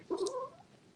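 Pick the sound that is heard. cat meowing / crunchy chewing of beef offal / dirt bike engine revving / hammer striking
cat meowing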